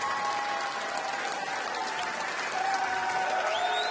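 A darts crowd applauds steadily at the WDF Lakeside World Championships semi finals, a dense and fairly distant wash of clapping that holds evenly throughout, with faint whistling or cheering above it.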